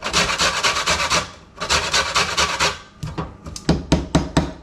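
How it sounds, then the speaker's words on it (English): Half a lemon being zested on a regular box grater for mackerel fishcakes, with bursts of close, dry rasping strokes in a steady back-and-forth rhythm, pausing briefly, then quicker, sharper scrapes toward the end. "I'm going to put some lemon zest. The zest of about half"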